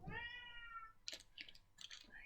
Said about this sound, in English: cat is making noise.